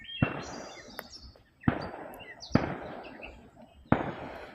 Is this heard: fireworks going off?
yes